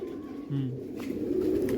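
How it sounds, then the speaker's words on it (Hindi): Racing pigeon giving a low soft coo close by, short and gentle over steady background noise. "ये बेहतरीन कबूतर है"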